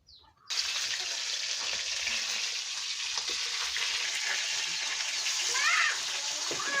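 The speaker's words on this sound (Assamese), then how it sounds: "এতিয়া মাছখিনি ফ্ৰাই কৰিব মানে" Fish sizzles and spits in hot oil in a pan for home-style Assamese cooking, a loud, steady crackling fry that starts abruptly and runs continuously up close.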